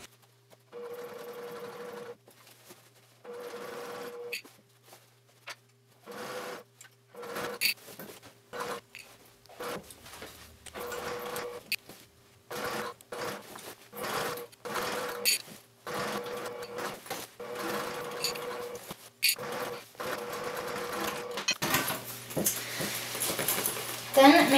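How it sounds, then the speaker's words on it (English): A sewing machine stitches a quarter-inch seam around the top edge of a foam-lined bag in repeated bursts of rapid whirring, stopping and starting over and over, close by, with a person talking between runs. "you're gonna sew around the entire top edge with a 1/4 inch seam allowance"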